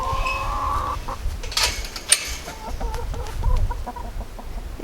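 Backyard chickens cluck in short, irregular bursts close by, with a few sharper squawks and some light background rustling.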